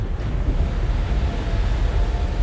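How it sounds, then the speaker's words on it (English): Ocean waves wash and crash around a warship in the naval combat game World of Warships, a loud, steady roaring surf blended with wind-like rushing noise, continuous and without speech. "You can hear the waves crashing."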